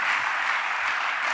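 Audience applauding at a church choir gathering, a dense, even clapping that stays constant and fairly loud throughout the brief moment.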